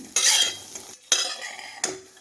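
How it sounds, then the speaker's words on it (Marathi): Corn kernels roasting in a pan over a high gas flame, with three scraping stirring strokes of a utensil against the metal and a faint sizzle, close and clear. "मोठ्या गॅसवरतीच मक्याचे दाणे भाजून घेणार आहे मी"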